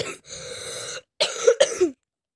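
Several coughs in a row: one long rough fit, a short pause, then a sharper burst of three or four close coughs near the microphone. A gamer coughs while playing and recording.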